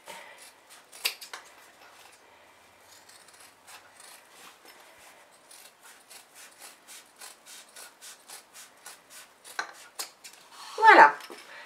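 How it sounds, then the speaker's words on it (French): Scissors trimming excess fabric from the sides of a sewn pouch: a series of soft, close snipping and rubbing cuts at a fairly even pace, quiet overall, with a brief louder rustle near the end. "je prends mes ciseaux et je découpe simplement le surplus"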